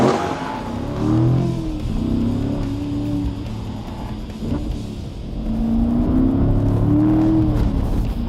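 A Chevrolet Corvette engine revs through rising and falling gears while driving, loud and close, with a whirring drivetrain tone between pulls.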